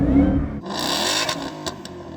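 A 735hp Ford Mustang engine revved before a drag race, a deep rumble that swells into a higher whining rev, loud and close with no talk over it.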